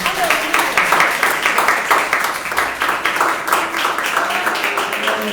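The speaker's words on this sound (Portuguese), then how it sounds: "Pode louvar o Senhor com mais palmas." A Brazilian church congregation claps in praise, with steady, rhythmic applause from a crowd close at hand and voices speaking over it.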